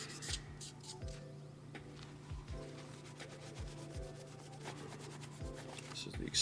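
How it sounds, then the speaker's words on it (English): Close, steady back-and-forth rubbing of a sanding stick or sandpaper over the surface of a plastic scale model around the cockpit, repeated rasping strokes with a faint background hum, no speech. "it's sanded, wiped, ready to go"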